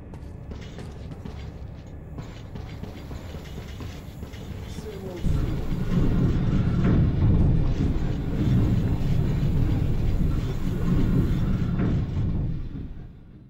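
In the Metro 2033 game, a train rolls through a metro tunnel, first as a quieter mechanical rumble with creaks and clanks, then swelling into a louder, heavy rolling roar that fades near the end.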